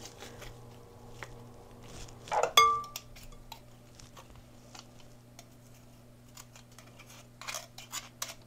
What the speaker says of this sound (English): So I'm gonna use my garlic press.